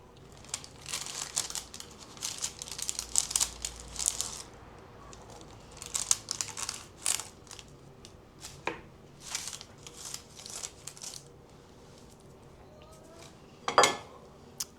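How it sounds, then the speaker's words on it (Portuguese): A knife slices through a freshly baked cuca cake in a home kitchen, with repeated crinkly, crumbly cutting and scraping sounds over several seconds and a sharper clack near the end. "Então agora vamos cortar e saber como é que ficou"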